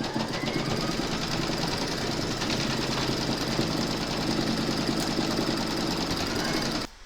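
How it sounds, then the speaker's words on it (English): An embroidery machine stitches through batting held in a hoop, giving a steady, fast mechanical chatter with a rapid needle rhythm that runs close and continuous before stopping abruptly at the end. "Pop your hoop into your machine and stitch round number 2 to secure it."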